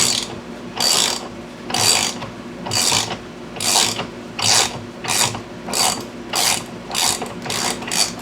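A stud extractor turns on a fork stud of a Honda CB700 motorcycle, making close repeated ratcheting clicks and grinding strokes in a steady rhythm of roughly one per second, with no talking.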